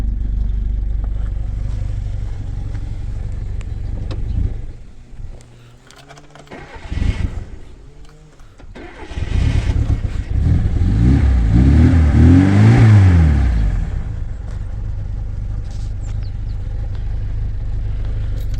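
Car engine cranking and catching midway, then a loud, close idle broken by a couple of rising revs before settling back to a steady running rumble.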